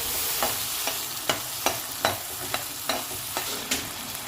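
Green peas frying in hot oil: a continuous sizzle, close and steady, with regular scraping stirs of a spoon about every half second.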